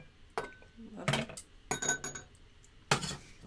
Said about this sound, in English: And now we'll add our ice cubes.